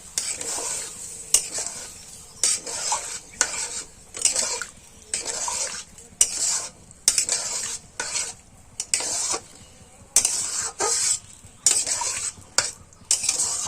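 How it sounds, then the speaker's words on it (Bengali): Boiled kabuli chickpeas stirred into frying spices for ghugni, a spoon scraping the pan in steady repeated strokes over a low sizzle, close and alone with no talk. "তো মশলার সঙ্গে ছোলাগুলো মিশিয়ে নিচ্ছি ভালো করে।"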